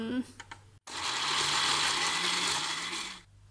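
After a few brief knocks and a short pause, a blender blending corn soup whirs loudly and steadily for over two seconds, then winds down.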